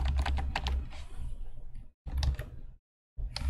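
Close computer keyboard typing and repeated backspace presses, rapid clicking bursts broken by short silent gaps, without any talking.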